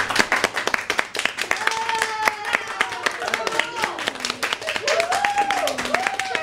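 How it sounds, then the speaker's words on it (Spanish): Audience at a quiz contest clapping in a brisk run of sharp, close hand claps, while several people talk and call out excitedly over the applause. "todos hemos aplaudido a Olga por esa alegría que nos ha transmitid"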